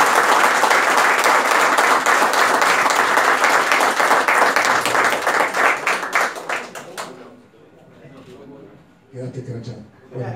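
An audience at an awards ceremony applauds a runner-up, a loud dense round of clapping that thins into a few scattered claps and fades out, then a voice speaks afterward.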